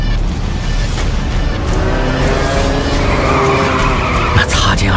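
A race car engine roars in a loud, continuous drone, with tires skidding and squealing toward the end, as a voice speaks over it.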